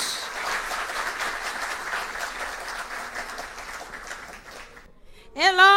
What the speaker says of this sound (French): je vous demande encore de l'applaudir très chaleureusement